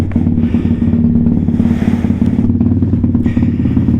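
A Venom Thunder 125cc motorcycle with a Nibbi part fitted, its hot engine running in a steady, close, loud putter with a throbbing idle rhythm and slight revving.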